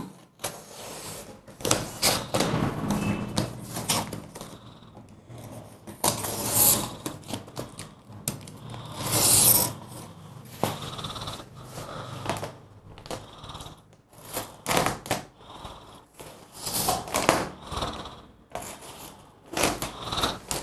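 Scissors snip and trim the edges of a plastisol transfer sheet, close crisp cutting and crinkling of the sheet in uneven bursts throughout, without speech.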